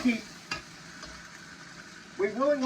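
Chicken and broccoli coated in cornstarch being stir-fried hard in a very hot pan, a steady sizzle with a sharp scrape near the middle and louder tossing bursts toward the end.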